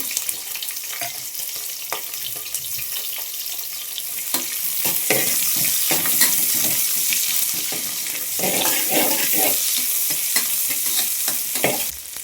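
Onions fry in a pan for a tomato rice dish while being stirred. A loud, steady close sizzle runs throughout, broken by scraping stirring strokes, with no talk.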